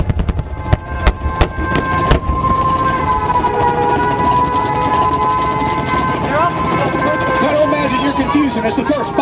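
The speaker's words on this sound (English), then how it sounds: "Hear the sirens just as they did that fateful day." Air raid sirens wail steadily at an air show reenactment of the 1941 Pearl Harbor attack, rising and holding over loud outdoor rumble and an announcer's voice, with a few sharp impacts at the start.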